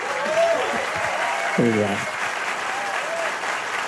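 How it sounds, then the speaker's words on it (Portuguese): A congregation applauds the new pastor at a church community gathering, moderate steady clapping that runs throughout while someone speaks briefly over it. "Uma salva de palmas, por favor."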